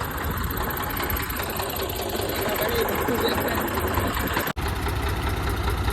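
Tractor engines run while the tractors are lifted in a rural contest, giving a loud, continuous mechanical drone with a rapid rattling pulse throughout, briefly interrupted near the end.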